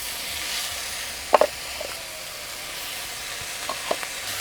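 Onions, green chillies, garlic cloves, mint and coriander fry in a pan, giving a steady soft sizzle with a few brief stirring clinks scattered through it; no talking.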